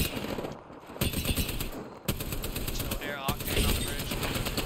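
Automatic weapon fire in the video game Apex Legends rattles in rapid, continuous bursts, loud and dense, with players talking over the shooting.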